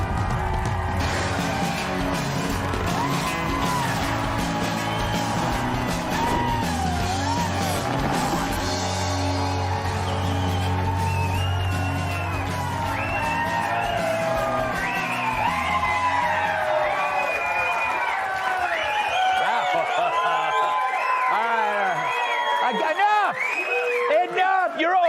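A studio audience cheers, whoops and claps for a long, loud stretch, with music and shouting mixed in before the noise thins toward the end.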